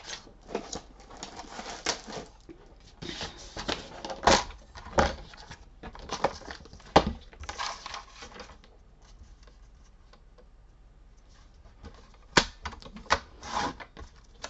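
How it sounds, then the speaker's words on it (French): Paper being cut to about 13 cm for a simple handmade card, heard as a series of crisp snipping and rustling bursts, some louder and closer, with quieter stretches between and no talking. "donc je coupe mon petit bout de papier"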